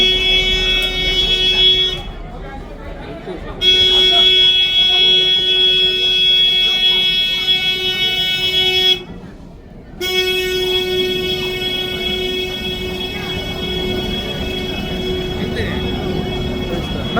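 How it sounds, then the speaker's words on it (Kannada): A train arriving at Ooty station sounds a long, steady horn tone that breaks off twice with short gaps, loud and close over a busy platform background. "ಫೈನಲಿ ಟ್ರೈನ್ ಬಂತು."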